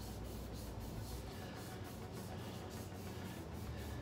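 Sandpaper is rubbed back and forth over the edges of a motorcycle fork stanchion tube during a CBR600F4i fork rebuild, making a continuous close rasping hiss with quick, regular seesaw strokes.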